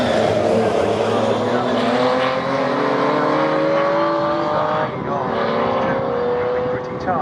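Pre-1963 race cars pass at Snetterton, engines roaring loud and close with rising and falling pitch as they sweep by, while a commentator talks over them.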